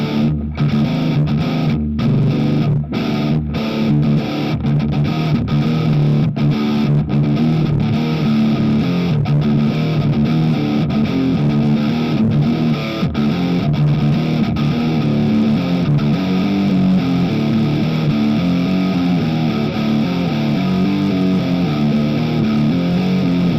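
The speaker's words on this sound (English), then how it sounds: "But this is the high gain, as much as what this amp can do that could be considered metal." High-gain electric guitar played through a Positive Grid Spark 40 amp on its triple rectifier model, loud, distorted metal-style riffing with steady chugging chords and brief palm-muted stops, continuous with no talking.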